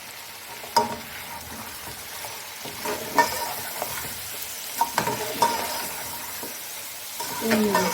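Chicken frying in ghee with ginger garlic paste, a steady sizzle broken by sharp scrapes and clatters of stirring at irregular intervals, close and fairly quiet.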